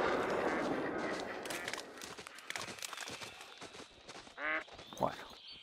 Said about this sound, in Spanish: qué ruido que tienen aquí todas las ánades, todos los ánades y todos los patos